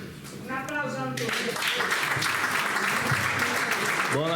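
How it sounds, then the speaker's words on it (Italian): An audience at an Italian evening gathering breaks into steady applause after a voice speaks over the opening moment, the clapping building and holding to the end, with another voice briefly cutting in at the close. "Un applauso a Antonio."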